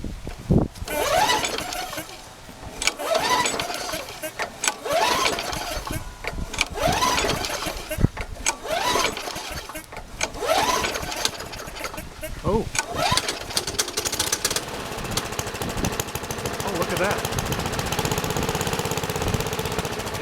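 Murray 20-inch lawn mower with a Briggs & Stratton 300 Series engine, newly fitted spark plug, being pull-started: repeated rasping cord pulls with brief sputters, roughly every two seconds, before the engine catches and runs; someone talks over it.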